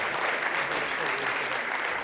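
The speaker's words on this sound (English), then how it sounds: "Warm round of applause." A seminar audience gives a short, steady round of applause, fairly faint and continuous throughout.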